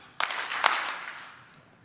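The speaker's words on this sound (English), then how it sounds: "Are you with me? 2 claps." A large audience at the Land Forces Pacific (LANPAC) event claps twice in unison on request, making two sharp, loud claps about half a second apart that ring out in the hall and fade slowly.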